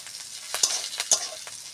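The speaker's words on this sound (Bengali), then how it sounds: "অল্প তেল দিয়ে পেঁয়াজগুলো এরকম ভেজে নিতে হবে।" Onions fry in a little oil, making a soft steady sizzle broken by a few brief scraping stirs of a utensil, close by and unaccompanied by speech.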